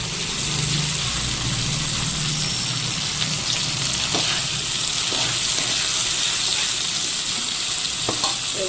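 Fresh coriander leaves fry in a little oil for a tomato, green chilli and peanut chutney. A loud, steady sizzle runs the whole time, close up and without talk.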